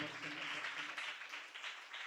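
Church congregation clapping hard through a Telugu sermon, a dense, steady wash of many hands that stays loud from start to finish, with voices mixed in.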